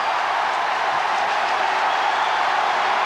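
A packed stadium crowd at a 1996 Cricket World Cup match between India and Kenya roars steadily and loudly after a boundary four, a dense unbroken wall of cheering with no talk over it.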